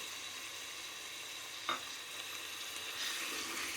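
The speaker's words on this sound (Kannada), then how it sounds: "ಮೆಂತ್ಯ ಸೊಪ್ಪು ಎಲ್ಲ ಚೆನ್ನಾಗಿ ಫ್ರೈ ಮಾಡಬೇಕು" Fenugreek leaves frying in a pan for methi pulao give a steady soft sizzle, with one brief sharp clink of a utensil partway through and the frying swelling slightly toward the end.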